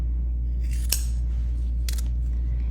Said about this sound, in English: take a piece of Velfoam and fold it about 1 inch over and cut out a triangle